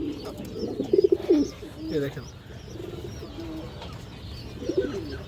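Large male and female pigeons in a cage coo in low, throaty bursts, several close calls rising and falling while someone talks over them.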